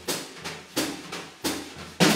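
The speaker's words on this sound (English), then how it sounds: "If I said to play swing in four, it would sound like this." Drummer playing a standard swing rhythm in four, likely on brushes or cymbal, giving soft evenly spaced washes with light accents, quiet and alone with no talk.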